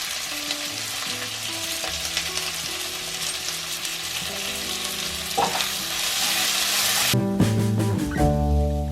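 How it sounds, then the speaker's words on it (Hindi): Finely chopped potato pieces with salt and turmeric fry in a hot pan, giving a steady close sizzle with occasional stirring scrapes under a continuous musical backing that grows louder near the end. "आलू मैंने बहुत ही बारीक काटा था इसीलिए अच्छे से फ्राई हो गया बहुत ही जल्दी"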